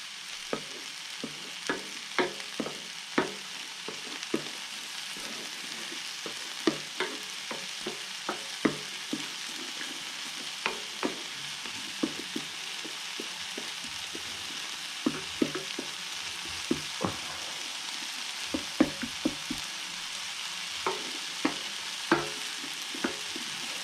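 Nasi goreng stir-fried in a pan gives a steady, even sizzle, broken throughout by frequent sharp clicks and scrapes of the utensil against the metal.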